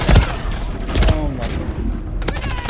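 Video game gunfire cracks out in several bursts, loud and close, with a few separate shots scattered between them over a noisy background.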